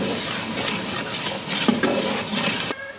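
Salt and turmeric are stirred into vegetables in a pan over a close, steady sizzle with faint scraping. A clear clink sounds midway, and the noise drops off abruptly near the end.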